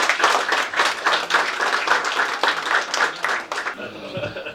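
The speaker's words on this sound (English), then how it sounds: "I just want everybody to give everybody else a round of applause" Audience at a parish event applauding, a dense, steady patter of claps close by that fades toward the end, with a few voices mixed in.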